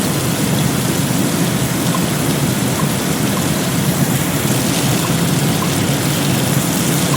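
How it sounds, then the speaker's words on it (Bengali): Potato pieces fry in hot oil with a dense, steady crackling sizzle, close and loud throughout with no talk. "আলুটা একটু ভেজে নেব।"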